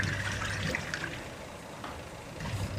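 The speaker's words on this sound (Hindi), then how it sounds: "तो वो पूरा पानी जो है निकल रहा है।" Water drains out of a washing machine after repair, a steady rushing, gurgling flow heard close up and continuous, with no voices.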